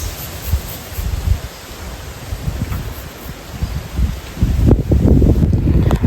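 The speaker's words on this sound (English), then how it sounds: "Over by this side though, the wind is quite strong." Strong gusts of outdoor wind buffet the microphone in low rumbling surges, and they build heavier and louder toward the end, with no voice heard over them.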